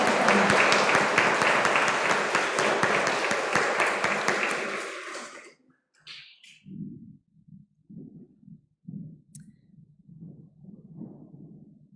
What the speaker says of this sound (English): we'll give them a big clap as we go back to their seats